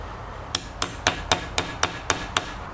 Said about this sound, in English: So now what I will do is just hammer it in